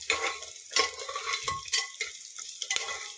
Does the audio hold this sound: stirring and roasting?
yes